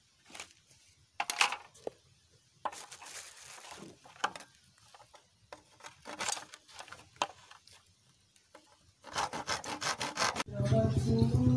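Hand-sawing through a PVC L-elbow pipe fitting: repeated rasping saw strokes in irregular bursts, close and fairly loud, ending with a rapid run of faster strokes and a louder scraping rush.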